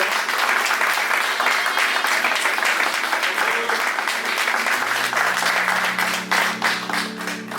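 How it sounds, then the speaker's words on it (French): A church congregation applauds loudly and steadily during a sermon, a dense unbroken wash of many hands clapping close by, with a low sustained tone joining underneath toward the end. "Acclame très fort et je vais parler dans le temps."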